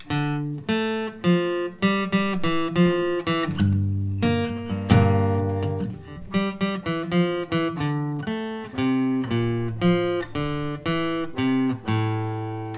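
A slow guitar riff of plucked single notes and low chords, played deliberately with short gaps, clear and close with no voices.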